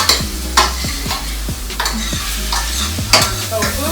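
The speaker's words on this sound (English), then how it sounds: "And then we'll just keep stirring this around." Tofu frying in a pan for vegan Dominican mangú, stirred in a steady rhythm of spatula scrapes and knocks over a constant close sizzle.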